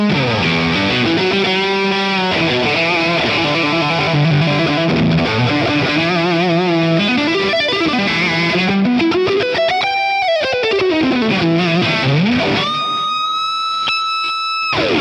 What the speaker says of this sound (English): Let's also check out the YJM pedal. Okay, this is a regular single coil guitar